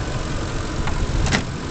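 A Ford F-150 SuperCrew FX4 4WD pickup idles steadily with a smooth, quiet low rumble, close by, with a couple of faint brief clicks and no talk.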